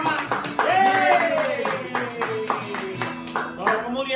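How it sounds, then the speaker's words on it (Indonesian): Children and a congregation at a Sunday school church service clap their hands together in a steady rhythm, sharp repeated claps over a sung melody. "Tepuk tangannya sama-sama."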